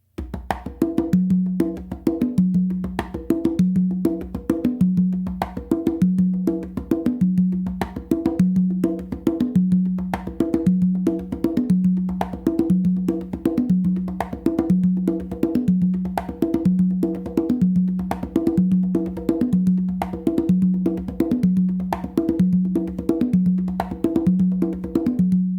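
A fourth Songo variation on three congas rolls along as a continuous, evenly repeating groove of deep open tones and crisp slaps, close and loud, with no voices over it.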